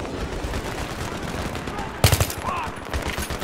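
Gunfire in the video game Battlefield 3: a quick burst of close shots around the middle of the clip over steady battle ambience, with someone talking in Turkish throughout.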